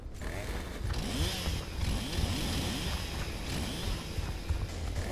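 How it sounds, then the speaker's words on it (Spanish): A chainsaw revving in the video game Gears of War, a loud continuous buzzing whine with rising and falling engine sweeps, plus mechanical clatter throughout. "Que tengo una puta motosierra."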